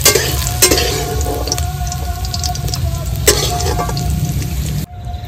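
Soaked cashews and raisins frying together in hot oil in a pan, a steady close sizzle with occasional stirring clatters, ending abruptly near the end.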